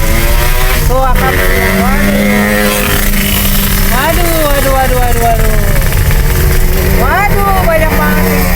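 A group of five Yamaha RX King motorcycles passes on a mountain road, heard from inside a car. Their two-stroke engines rev in rising and falling sweeps under loud, steady cabin noise while people talk over them.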